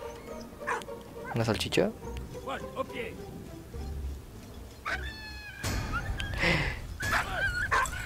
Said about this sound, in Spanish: Se atoró el perro.